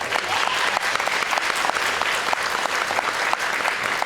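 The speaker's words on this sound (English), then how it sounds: "So can we give a round of applause to our" Sustained applause from an audience at a state legislative advocacy day, a dense steady wash of many hands clapping at close range, with a few sharper individual claps standing out and no talk over it.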